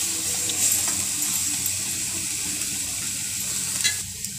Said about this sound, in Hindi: थोड़ा सा हम और भून लेंगे